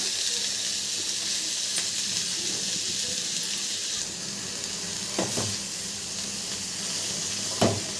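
Amaranth greens (thotakura) frying in a pan, giving a steady loud sizzle throughout with a few faint scrapes of stirring, close up and without voices.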